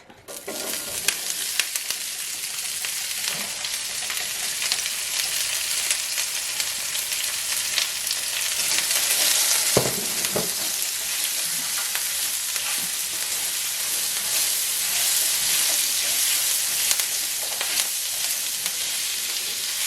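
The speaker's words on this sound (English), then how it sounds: "Now you want to add your onions, your celery, your garlic, your fresh rosemary, and your fresh thyme to your pot." Onions, celery, garlic, fresh rosemary and fresh thyme fry in oil in a pot for a pot roast, a loud constant sizzle close by with stirring scrapes and no voices.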